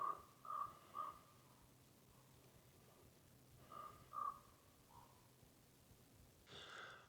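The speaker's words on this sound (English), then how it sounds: "that crow's been going at it for a" A crow caws along a wooded hiking trail, three harsh calls in a row, then a second burst of two or three after a pause, moderately distant over a quiet outdoor background.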